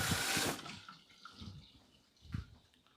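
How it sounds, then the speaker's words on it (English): Water runs briefly into a kitchen sink as a pan with leftover cheese is rinsed, a strong splashing gush at first that drops to a few softer sloshes and drips. "So we're gonna reuse this pan. We're just gonna rinse it."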